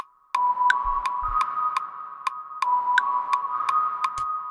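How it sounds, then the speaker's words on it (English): A steady sine-like synth pad hums under a rhythmic pattern of sharp ticking clicks, with faint noisy texture layered over the tone. "It's just a sine wave with a bunch of this noise unison."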